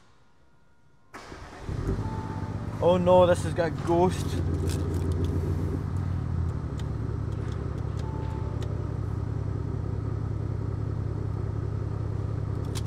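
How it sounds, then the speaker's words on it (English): Audi S4 TDI diesel engine starting from cold: a short cranking burst, then the engine catches and settles into a steady, rumbling idle, close by, with someone talking over the start. "Let you get a listen to this rather fruity diesel."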